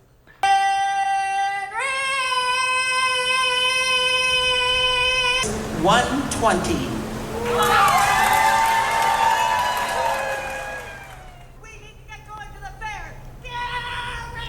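Women screaming and yelling long drawn-out calls in the husband calling contest at the Iowa State Fair, loud sustained wavering cries one after another, with crowd noise and a voice talking briefly.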